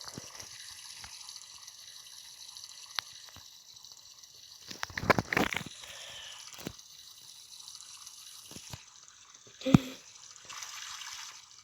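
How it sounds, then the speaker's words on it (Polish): Water from a shower runs in a video game, a hissing stream with a few louder gushes and splashes, with no talk. "Dobra, ja biorę prysznic."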